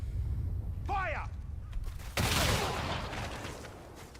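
Gunfire in a video game: a sudden loud volley bursts out midway and rolls on in a dense crackle, after a short whistling sweep and under a noisy battle bed with shouting voices.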